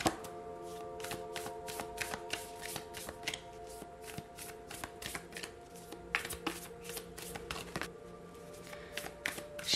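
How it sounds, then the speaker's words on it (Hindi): Tarot cards shuffled steadily by hand, a rapid run of crisp, close riffling flicks and taps that carries on throughout with no talking. "shuffle, shuffle, shuffle for Aquarius."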